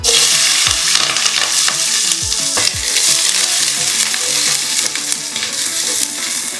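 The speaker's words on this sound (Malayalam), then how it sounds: "ഞാനിപ്പോൾ ഇതിലേക്ക് ഇത്തിരി കടുക് ഇട്ട് കൊടുക്കുന്നുണ്ട്." Mustard seeds, chopped onion, crushed garlic and cut green chili crackle and sizzle in hot oil, a loud, dense frying hiss with sharp popping bursts and scraping stirs, no voices.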